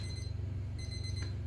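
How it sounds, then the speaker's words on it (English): A Thermoworks Smoke thermometer with no probe connected beeps at close range, giving two sharp electronic alarm tones over a steady low hum. "Right now it's just beeping because there's nothing hooked up."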